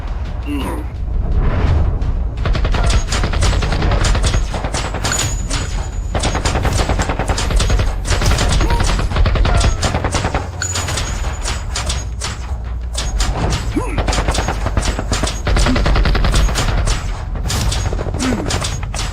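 Rapid, dense gunfire rattles without a break, bursts of shots layered with loud impacts and voices throughout.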